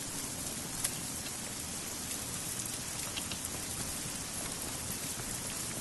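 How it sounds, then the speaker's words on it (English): Heavy rain pours steadily in a video game, a dense, continuous hiss of drops on surfaces with no break throughout. "Yeah, no, this rain, man."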